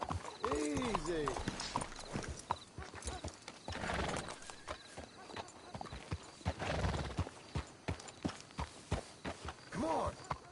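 Horse hooves clop steadily at a walk, with a whinny or two, while voices talk over the top throughout, in Red Dead Redemption 2.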